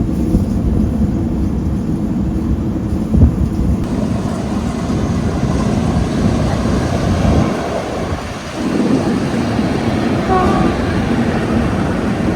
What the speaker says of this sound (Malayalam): ബംഗളൂരു കണ്ടോൺമെന്റ് പോകുന്ന വന്ദേ ഭാരതാണ് പോകുന്നത്.